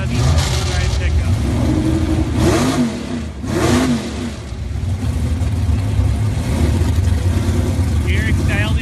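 A red Jeep and a big Chevy pickup at a drag race, loud engines revving and roaring with rising and falling sweeps while an announcer talks over them.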